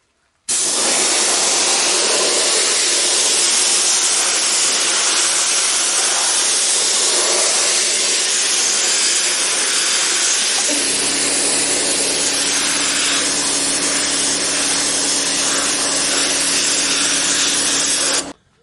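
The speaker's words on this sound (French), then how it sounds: "Donc là, je vais commencer par sabler." A sandblasting gun loaded with very fine grit and set to about 5 bar blasts a wood surface coated in thick wood stain, a loud continuous hissing roar that runs steadily, joined partway through by a low steady hum, then cuts off abruptly.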